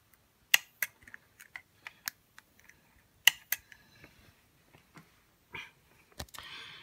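A KitchenAid dishwasher that had gone dead clicks as power returns: a run of sharp, irregular clicks and ticks, close and fairly quiet, with a short burst of rustling near the end.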